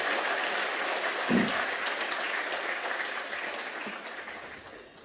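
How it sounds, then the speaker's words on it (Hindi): Steady applause from a crowd at a ceremony handing out appointment letters to medical officers in Dehradun, a dense wash of clapping that holds for several seconds before gradually fading. "जोरदार तालियां बजाकर सबका उत्साहवर्धन करें"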